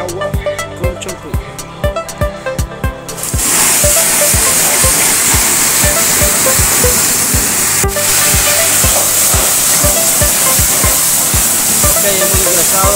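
A coin-operated car wash pressure sprayer starts blasting shampoo water after a few seconds of rhythmic machine ticking, then holds a loud, continuous close hiss.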